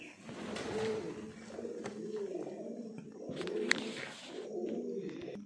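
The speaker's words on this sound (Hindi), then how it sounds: "कबूतरों की आवाज़ आप देख सकते हैं" Pigeons coo in repeated low, throaty phrases at Rani Ka Kuan stepwell in Machari, Alwar, Rajasthan, steady and fairly close, with faint background ambience and a few small clicks.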